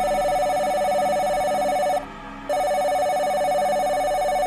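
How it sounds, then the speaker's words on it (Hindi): A telephone rings with a steady electronic tone, held loud and continuous, broken by one short pause before ringing again, alone with no voices. "प्रियांक के फोन की घंटी बजी"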